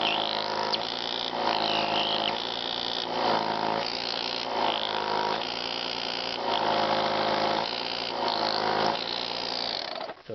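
A Pittsburg 12V air compressor pump runs steadily, its gears producing a continuous loud mechanical whir with a rhythmic pulsing chug, close by, before cutting off abruptly at the end.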